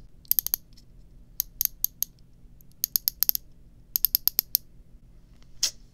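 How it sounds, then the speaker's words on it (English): Brake adjustment dial on a Lew's Classic Pro baitcaster fishing reel, crisp close clicks in quick clusters of three to five separated by short pauses, loud against a quiet background. "the brake does have a click if that matters to you"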